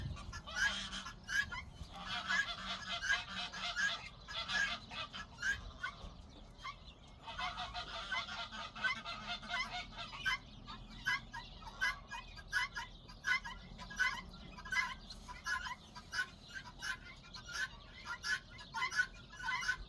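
A flock of domestic geese honks repeatedly and noisily for the whole stretch, overlapping calls at close to middle distance, with no one speaking.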